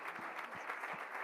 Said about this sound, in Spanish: Den un fuerte aplauso al Señor, hermano.